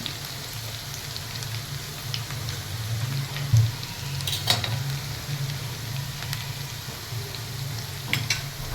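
Garlic frying gently in oil over a low flame, a steady soft sizzle with faint crackles and occasional pops running throughout, close and unbroken by talk.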